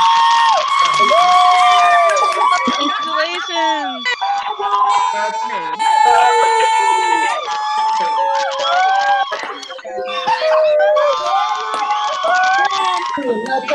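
Graduating class of 2020 cheering together over a video call, a loud, dense jumble of overlapping voices, whoops and shouts, with short bursts of siren-like noise toward the middle, sustained throughout.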